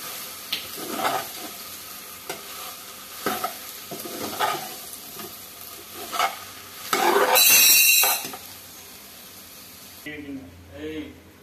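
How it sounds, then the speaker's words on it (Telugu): Okra fry with onions, green chilies, ginger garlic paste and curry leaves is stirred in a sizzling pan. Rhythmic scraping strokes fall about once a second, with a louder hissing burst midway, and a voice talks at times. "మంచిగా కలుపుకోవాలి. కలుపుతూనే ఉండాలి."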